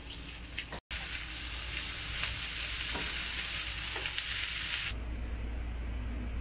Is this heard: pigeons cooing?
no